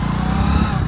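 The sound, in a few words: motorcycle engine running after being started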